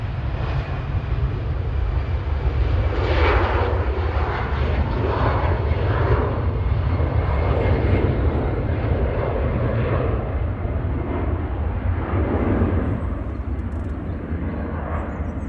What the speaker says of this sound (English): so that A380 that just left,